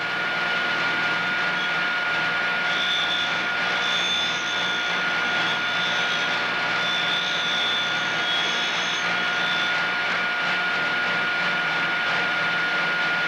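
A Cuttermaster grinding wheel sharpens a cutter's corner radius, making a steady, continuous motor whine with an even high-pitched hiss. It stays level the whole way through with no talking.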